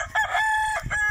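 A single Roundhead rooster crows nearby, a strained, drawn-out call with a brief break before its final note.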